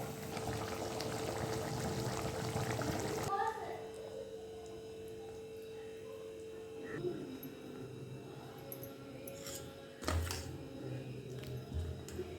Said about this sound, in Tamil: தோசைக்கு ஊற்றி